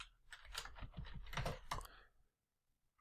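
Computer keyboard typing a command: a quick burst of about a dozen close, soft key clicks over roughly two seconds, then quiet with a last faint tap.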